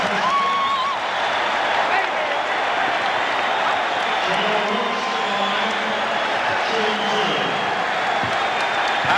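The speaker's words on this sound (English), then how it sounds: "some of the fans have already begun celebrating" Late in an NBA Finals game between the 76ers and Lakers, the arena crowd cheers and celebrates in a sustained, loud roar, with a broadcaster's voice talking over the noise.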